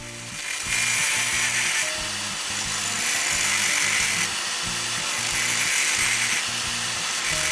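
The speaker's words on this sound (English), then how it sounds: "I begin shaping the metal tube with an angle grinder." An angle grinder cuts and grinds a metal tube, giving a loud, steady high-pitched whine that shifts slightly in pitch as the disc bites, running without pause close to the microphone.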